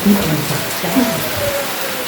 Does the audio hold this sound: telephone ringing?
no